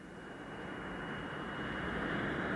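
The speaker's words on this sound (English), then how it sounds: "The sinister stealth bombers spearheaded the raids, a plane never seen in public before" A stealth bomber passes overhead with a steady jet roar that swells gradually louder, a smooth broad rumble heard alone without voices.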